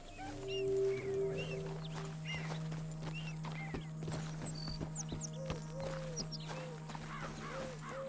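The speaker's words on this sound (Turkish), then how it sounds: "Kocaman bir at." Hooves clip-clop at an easy walk in Red Dead Redemption 2, a sparse rhythmic series of light knocks under a droning game soundscape with occasional bird calls and a brief horse snort.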